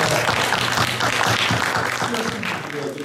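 A crowd applauds at the closing ceremony of a lecture academy course, a short burst of dense clapping that runs under speech.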